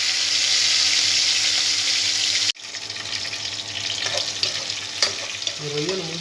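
Prawns hit hot oil in a pan, with a steady hiss of frying that cuts out briefly, then returns as a quieter, continuous sizzle with small crackles and pops.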